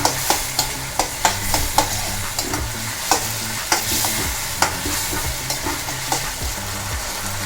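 Tomatoes being stirred in a frying pan for homemade pizza sauce, with a spoon scraping and knocking the pan in repeated strokes over a steady close sizzle.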